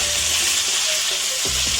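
Onions frying in oil for an Assamese-style mutton curry give a loud, steady hiss close by, with stirring scrapes toward the end.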